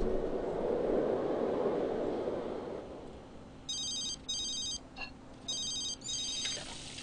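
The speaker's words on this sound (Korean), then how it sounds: "누가 전화 오냐?" A telephone rings inside The Sims 3 video game, several evenly spaced electronic bursts that follow a fading wash of in-game background noise.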